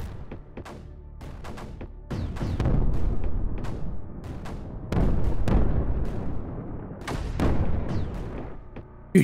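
Missiles launching and detonating in Creeper World 4, a dense run of booming, crackling explosions in overlapping bursts, loud and continuous with sharp transient pops throughout.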